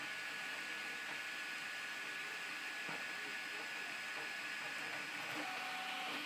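A Prusa 3D printer prints its first layers with the cooling fan spinning, giving a steady, even whir and hum with faint mechanical ticks throughout, close and continuous.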